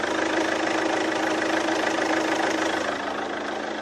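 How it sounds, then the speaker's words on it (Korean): Close recording of a VCDI diesel car engine idling: a steady, even rumble with faint ticking clatter that stays constant throughout, with no voices. "엔진 소음 먼저 들려드리면은"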